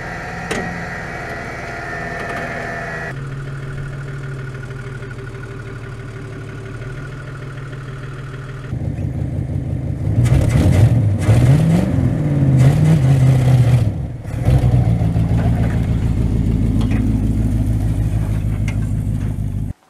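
A 1971 Toyota Hilux engine idles steadily, then revs up in several loud, rising bursts before settling back into a rough idle, close by with no talking.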